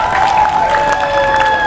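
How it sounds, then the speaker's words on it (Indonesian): Brief burst of audience clapping after a public speaking presentation, a dense, even patter of hands held at steady loudness. "tepuk tangan"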